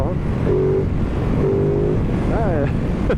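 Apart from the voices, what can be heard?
Ducati Multistrada 950 twin-cylinder motorcycle engine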